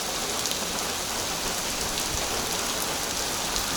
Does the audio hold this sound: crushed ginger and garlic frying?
no